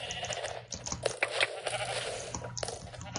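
Sheep bleating in Minecraft during a Mineplex Sheep Quest minigame, a few short blocky bleats over busy game noise and clicks, with no talk.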